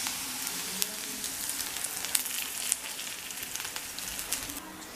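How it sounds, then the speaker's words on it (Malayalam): Shallots fry in hot oil in a pan for a taro and buttermilk curry, a fine crackling sizzle with sharp pops and spits breaking out over a soft continuous hiss, close by and without speech. "നന്നായിട്ട് ചുവന്നുള്ളി നല്ല ചുവക്കെ വറുത്തെടുക്കണം കേട്ടോ"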